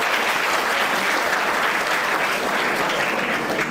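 Audience applause at a university event on the Viksit Bharat vision, a dense, steady wash of many hands clapping that holds at even loudness throughout, with no talk over it.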